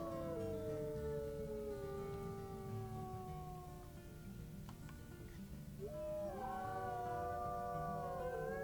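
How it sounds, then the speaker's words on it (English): Wolves in WolfQuest join in a rally howl, several long gliding voices overlapping in rising and falling tones over a steady low background, briefly dipping before a fresh chorus swells near the end. "Charlie is starting off a rally howl."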